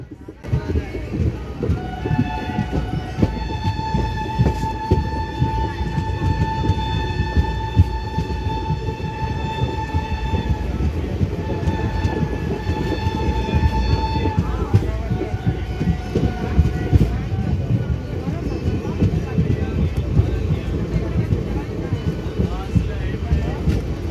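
An Intercity Express train pulls out of Taraiya Junction, heard from on board as a continuous rumble and rattle of carriages, with a long horn-like tone sounding over it partway through.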